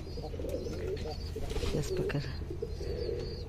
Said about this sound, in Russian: это все голуби здесь. Только разных пород.